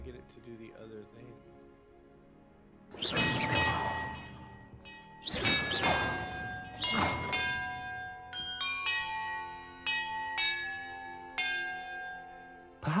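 Bells rung in a video game puzzle: three loud, ringing strikes with long decaying tones, then a run of lighter, higher chimes in quick succession.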